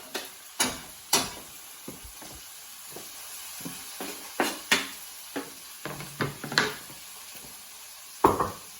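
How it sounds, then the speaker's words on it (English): Chopped vegetables go into a hot pan for a creamy green pasta dish, giving soft sizzling under a series of sharp clicks and taps from a utensil against the pan. "And add that into your pan now."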